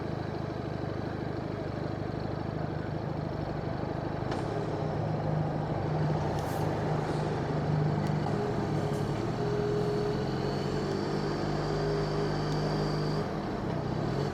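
A Harley-Davidson X350 twin-cylinder motorcycle idles and pulls away in slow traffic during a test ride, its engine a steady low hum beneath faint wind and road noise.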